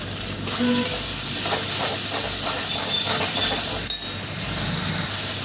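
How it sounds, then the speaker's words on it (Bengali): Spices with Kashmiri chilli powder fry in a pan for a jackfruit curry, giving a loud, steady hiss and sizzle with a few faint clinks. "সমস্ত মশলা আমি সুন্দর করে কষিয়ে নেব"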